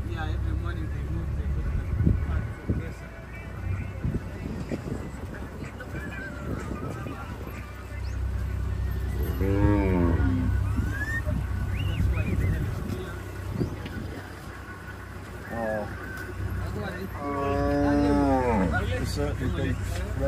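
Maasai cattle herd lowing outdoors in Kenya's Maasai Mara as the animals are moved out in the morning, several moos rising at intervals over steady background noise, with people talking nearby.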